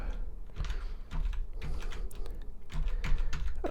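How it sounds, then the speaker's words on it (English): Computer keyboard keys are mashed rapidly while playing the 1982 DOS Pac-Man game: a dense, uneven clatter of close key presses and thumps running throughout, with no speech. "You could probably hear me mashing those keys"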